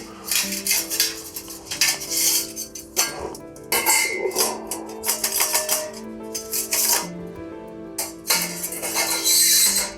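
Repeated metallic clinks, scrapes and rattles as thin metal pieces of a camping wood stove are slotted and fitted together by hand, close up, in irregular bursts.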